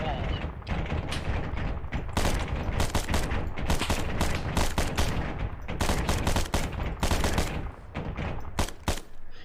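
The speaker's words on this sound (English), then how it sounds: "Is it literally the Shilka that's just sending rounds out like crazy?" Shilka anti-aircraft gun in the Arma video game pouring out rapid automatic fire, a dense, loud, nearly continuous chatter of rounds for the full length, with a voice faintly underneath.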